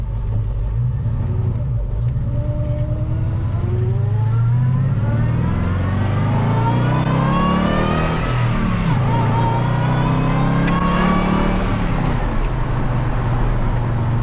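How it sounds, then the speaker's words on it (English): A supercharged, hydrogen-powered LS engine in a classic truck revs up loudly and close, pitch climbing and falling in long sweeps with a steady whine over the rumble. "That makes all the supercharger sounds you'd expect."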